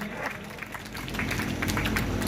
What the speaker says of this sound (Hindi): करतल ध्वन से एक बार ताली बजा करके